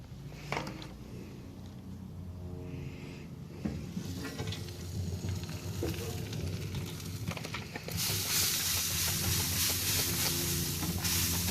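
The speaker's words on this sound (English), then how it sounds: "But what I'm going to do is actually spritz this." Spray bottle spritzing smoked chicken wings on an offset smoker outdoors, a hissing mist over steady background noise, growing louder and denser in the last few seconds, with no speech.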